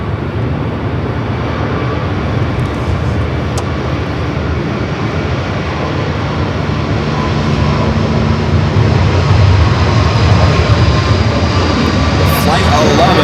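Jet engines of a Singapore airliner spool up and roar on the runway for takeoff at LAX, a loud, broad, steady rumble that builds gradually, heard with airport ambience and someone talking over it.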